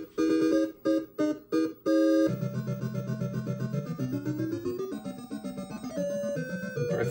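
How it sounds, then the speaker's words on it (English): Electronic warning tone from a Crystal Castles arcade game, sounding before the bees are sent: a few short, bright chirping bursts at the start, then a steady, warbling synthesized tone with a slowly rising pitch, loud and alone. "that noise you hear means I'm taking too long and it's going to send bees after me"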